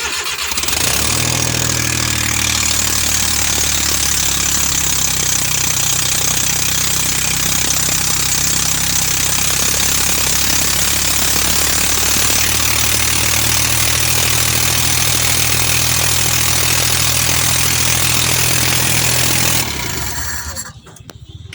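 A Suzuki K6A engine, freshly installed in a van, cranks and catches, then runs at a loud, close, steady rough idle for about twenty seconds before shutting off.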